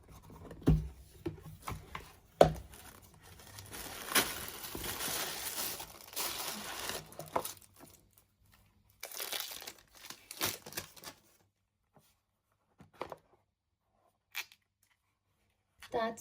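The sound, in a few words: opening and unwrapping a package, packaging crinkling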